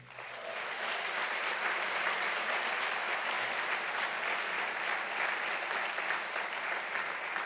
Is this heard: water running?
no